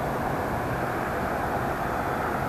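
An XK A1200 EPO foam RC airplane flies at just below half throttle, a steady continuous motor drone with broad wind-like noise holding at even loudness throughout, with no voices.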